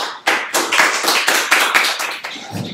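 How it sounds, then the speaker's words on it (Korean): Church audience gives a warm round of applause to welcome a pastor: many hands clapping loudly and close, dense and slightly uneven, easing off toward the end. "우리 매튜 목사님을 힘찬 박수로 우리 홍 목사님 함께 우리 환영하도록 하겠습니다."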